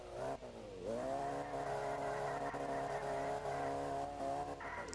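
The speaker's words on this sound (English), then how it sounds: "and we can start drifting" A car drifts in the Roblox video game, its engine holding a steady revving whine that dips and climbs again, loud and continuous for several seconds with a hint of tire squeal and no talking.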